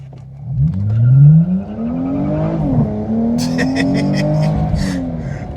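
A V6 Dodge Challenger fitted with a 3.90 limited-slip differential spins its wheels on takeoff. The engine revs climb loudly up close, dip, then rise again while the tires scrabble and squeal.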